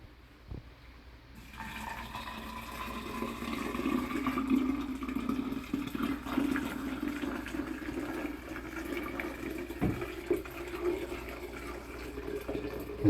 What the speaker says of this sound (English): we'll add hot water